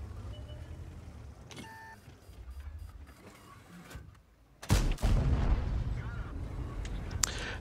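Tank cannon fire in World of Tanks, an autoloader tank's shot: a sudden loud blast partway through, leaving a sustained rumbling roar, after quieter engine and battle ambience with a voice talking.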